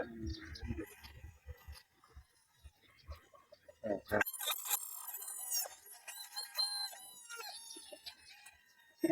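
A gamefowl rooster crows on a game farm, a loud drawn-out call rising over background clucks and chirps from other birds, with rustling and faint handling noise before it.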